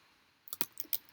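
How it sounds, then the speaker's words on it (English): A computer mouse triple-clicked while editing a chart in a spreadsheet: three quick, crisp clicks in close succession, faint and near, after a moment of silence. "Triple click."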